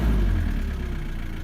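A Nissan D21 Hardbody diesel with a mechanical fuel pump idles after a cold start, giving a steady, loud low rumble with a faint rhythmic knock close by and no talk.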